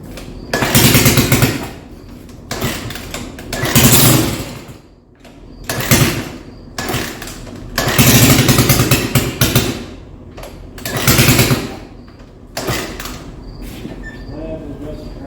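A rebuilt engine repeatedly cranks and briefly catches in loud, close bursts separated by quieter gaps, with people talking at points between the attempts.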